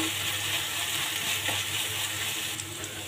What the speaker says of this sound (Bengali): দিয়ে এই পেঁয়াজটাকে একটু ভেজে নেব যাতে পেঁয়াজের কাঁচা গন্ধটা না থাকে